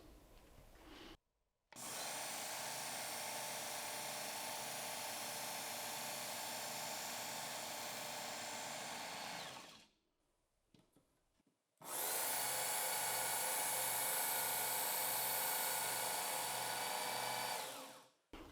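Ken Onion Work Sharp KTS Mk.2 belt knife sharpener grinding a knife at speed 3 and a 20-degree angle: two sustained whirring runs of about eight and six seconds, separated by a short quiet gap, fairly close.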